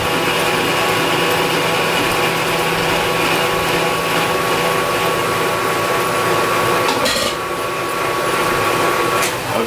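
A jaw crusher grinds a rag fed in with chips, giving a steady, loud mechanical drone throughout, with a brief harsher crunch near the end.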